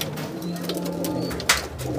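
Racing pigeons coo in low, throaty murmurs nearby, sustained and overlapping, with a sharp flutter or tap standing out midway.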